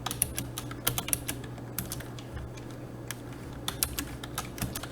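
Quiet, close typing on a computer keyboard while composing a network automation script, with irregular bursts of sharp key clicks and short pauses in between, and no voices.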